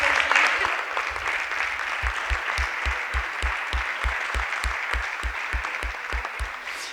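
A crowd applauds steadily, with rhythmic claps keeping time through most of the stretch, fairly loud and close.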